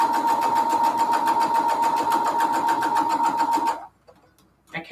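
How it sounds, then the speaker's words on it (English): Sewing machine back stitching cathedral window quilt pieces, a loud close steady whirring hum with rapid needle rhythm that runs for nearly four seconds and then stops abruptly. "Did a little bit of back stitching."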